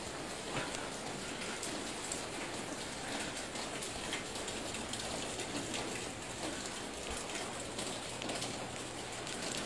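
Steady rain hisses and patters on surfaces along the streets of Jiufen, Taiwan, a soft, even wash of sound with no voices.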